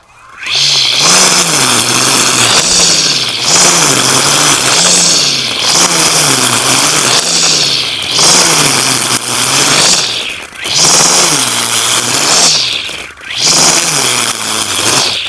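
Repaired, modified Makita 40V electric grass trimmer cutting grass: a loud, close, continuous whine that swells and dips in steady sweeps every couple of seconds.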